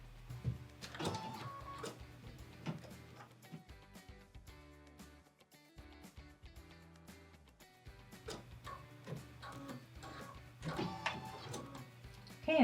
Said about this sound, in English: let's go ahead and stitch that first star design, and then we'll stitch the second star design following that.